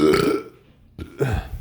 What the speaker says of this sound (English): Well, I had my burps.